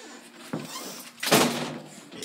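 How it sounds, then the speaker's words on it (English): A bedroom door swings shut, giving a soft knock followed by a louder whooshing close with a dull thud, heard nearby in a quiet room. "Close my door."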